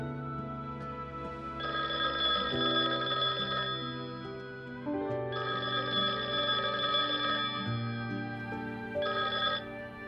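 A home telephone rings unanswered in a Chinese drama scene, giving three long trilling rings separated by pauses over a soft sustained musical backdrop, with no speech.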